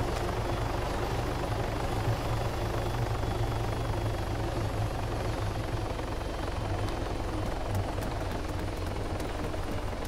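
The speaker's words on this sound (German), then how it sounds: "der Typ mit dem Heli ist auch wieder da" A helicopter in the military game Arma 3 (Altis Life mode) drones with a steady, loud rotor and engine roar that holds unchanged for about ten seconds, close by, with no talk over it.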